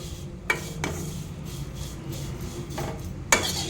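Vermicelli (sev) is roasted in a pan on the stove, with quiet scraping and stirring and two sharp clinks of a utensil against the pan.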